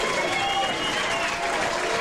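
Applause follows a strike at the 1998 PBA Rochester Open bowling tournament, a steady wash of crowd clapping that runs throughout.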